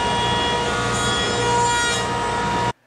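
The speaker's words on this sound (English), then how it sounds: "I then run these through the JESM router lift and clean these up." Router lift trimming wooden wine box parts, a loud, steady high-pitched whine and cutting rasp lasting about three seconds before stopping abruptly.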